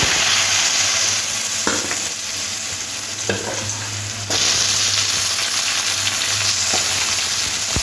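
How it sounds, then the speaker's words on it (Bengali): Cut potato frying in oil with a five-spice tempering: a loud, continuous sizzle broken by several scraping stirs, with no voices over it. "আলুটা একটু লাল লাল করে একটু ভেজে দেব"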